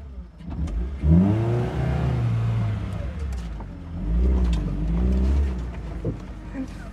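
An old 4x4 car is driven with its engine revving up and down in two long surges, a mid-pitched growl close to the microphone with faint rattles, no talk over it.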